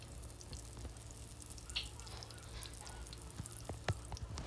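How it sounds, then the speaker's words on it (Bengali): Beguni, battered eggplant fritters, fry in hot oil with a soft, steady sizzle and occasional small pops and crackles, fairly quiet and close, with no talking. "বাকি বেগুনিগুলো কিন্তু আমি ভেজে নিচ্ছি।"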